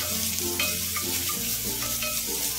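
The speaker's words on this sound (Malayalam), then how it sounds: "ഹൈ ഫ്ലെയിമിൽ തന്നെയാണ് ഞാൻ ഇട്ടിരിക്കുന്നത് കേട്ടോ." Sliced onions sizzle loudly on a high flame in a close pan, a dense steady hiss of frying with occasional stirring clatter and a low hum beneath, no one speaking.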